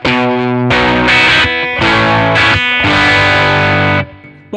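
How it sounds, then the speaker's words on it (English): Electric guitar through a Kemper Profiler amp profile with a driven, slightly chorused tone, playing a loud sequence of strummed chords and short phrases with brief gaps, ringing out near the end. "So it's not really twin sound."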